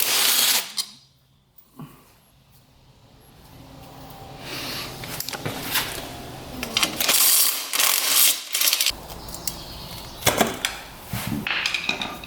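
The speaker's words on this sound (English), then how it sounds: "Now, we're gonna get all the bolts around here off." A hand ratchet loosens bolts on a Honda 4x4 ATV, giving rapid clicking pawl bursts in several close, loud runs separated by pauses, with metallic clinks and handling noise between them.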